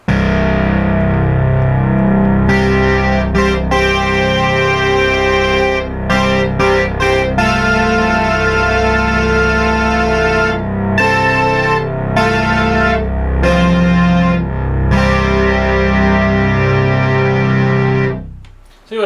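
A restored Memorymoog synthesizer plays its first stored sequence from bank 1. Loud, distorted, rhythmic synth notes repeat in a pulsing pattern with short breaks for about eighteen seconds, then cut off.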